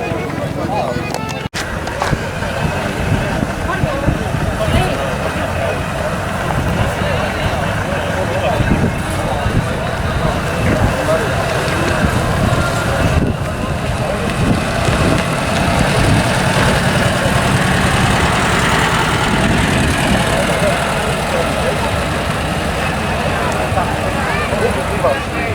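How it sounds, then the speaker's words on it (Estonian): An engine idles steadily at close range for the whole stretch, a constant low rumble with a brief dropout near the start; a person talks over it in places. "Mootor pisut juksi."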